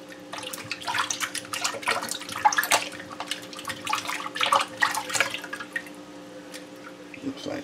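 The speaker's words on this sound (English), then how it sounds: "Wash the inside." Running water splashes and drips as the inside of a fish is washed under a tap, an uneven patter of splashes over a steady low hum, close and moderately loud.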